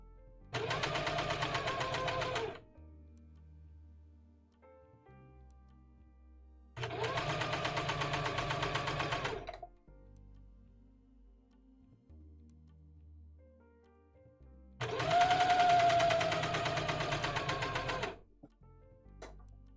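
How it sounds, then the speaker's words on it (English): A sewing machine runs in three steady bursts of about two to three seconds each, separated by quiet pauses, close and fairly loud with a constant mechanical whir. "I just noticed that the camera shakes when this sews"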